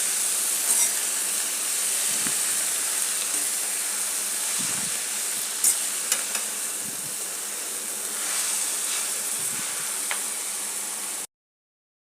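Fenugreek leaves for methi rassa bhaji sautéing in a pan, giving a steady close hiss and sizzle with a few faint stirring clicks, then sudden silence at the very end.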